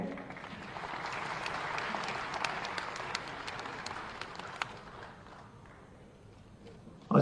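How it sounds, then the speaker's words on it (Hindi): Sustained audience applause at a Chhattisgarh government groundwater mission launch event, dense clapping from a crowd that holds steady for several seconds, then thins and fades toward the end before a brief sharp sound. "तालियां बजती रहे।"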